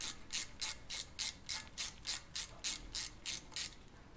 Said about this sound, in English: now we can take the T30 bit on the ratchet and loosen up the bolts